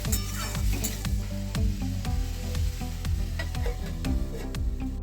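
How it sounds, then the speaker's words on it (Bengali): Salted ripe cucumber sizzles loudly in a pan while being stirred, with rhythmic repeated scrapes and clatters of the spoon against the pan. "এই শসাটাকে আমি ভালো করে নেড়ে চেড়ে দিচ্ছি"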